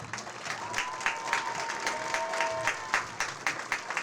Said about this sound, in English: Please join me in a round of applause for all of these students for their outstanding accomplishments